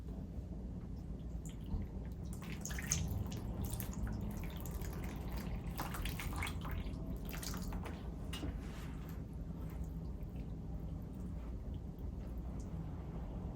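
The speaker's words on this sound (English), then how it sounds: "when I freshly water, I just have to be very patient" Water poured into a potted long-leaved anthurium houseplant, dripping and trickling through the soil in soft, irregular splashes over a steady low background.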